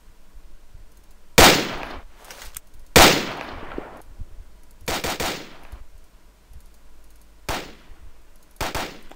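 Bursts of M4 automatic rifle fire from a DICE video game, sharp cracks in short volleys separated by pauses, loud and close with no talking.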